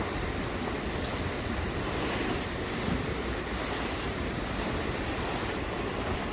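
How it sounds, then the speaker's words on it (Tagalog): Pacific Ocean surf during a cold-weather fishing outing, a constant loud wash of waves mixed with wind buffeting the microphone. "I think it's a wave."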